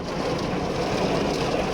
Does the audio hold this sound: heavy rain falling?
yes